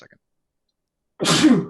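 A single sharp sneeze bursts out near the end after a brief bit of talk and silence, close and fairly loud.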